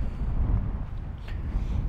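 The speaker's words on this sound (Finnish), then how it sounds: "Täälläkään nyt on aika kova tuuli." Strong wind buffets the microphone with a low, continuous roar and gusty rumble.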